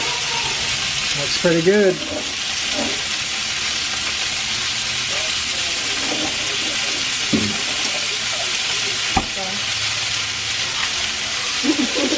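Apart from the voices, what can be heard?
gyoza frying in a cast iron pan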